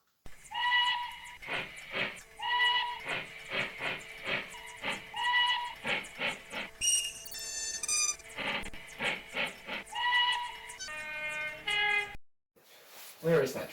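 A model train layout in a home workshop, its horn or whistle sounding in repeated short toots with a rhythmic, chugging pattern, close and clear, with a brief pause near the end.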